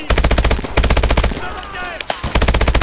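Rapid bursts of automatic machine gun fire in the video game Call of Duty Advanced Warfare, loud and close with a short pause mid-way, while voices call out under the shooting.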